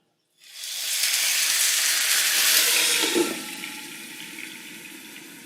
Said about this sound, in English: so now the steam will cook the top parts of this while it's covered